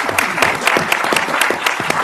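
An audience at a climate change talk in Boston applauds in a steady, close wash of clapping with regular accented claps throughout.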